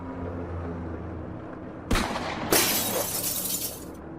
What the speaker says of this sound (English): He fired at the top of the glass, shattering it completely.